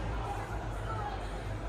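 Crowd babble fills a concourse at Mercedes-Benz Stadium in Atlanta ahead of a concert, a steady, dense murmur of many voices throughout.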